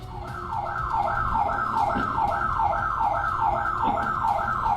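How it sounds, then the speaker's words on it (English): A house alarm siren sounding through a doorbell camera's speaker, a loud, continuous wailing tone that sweeps up and down in steady repeated cycles of about half a second, with background noise underneath. "And triggering an alarm"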